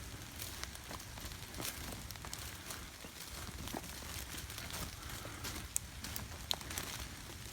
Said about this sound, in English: It's a good thing that I don't mind the rain.